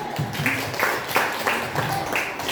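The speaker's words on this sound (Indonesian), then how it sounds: "ayo kita beri aplaus untuk Ibu Bella" An audience gives applause for Ibu Bella at a positive-culture dissemination event, with a modest scatter of hand claps that carries on steadily for a few seconds at moderate distance, and a little voice mixed in.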